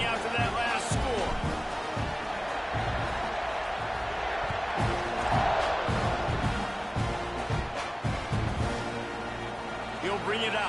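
Stadium crowd buzzing after a score in a college football video game, a steady roar running under continuous play-by-play commentary with scattered thumps.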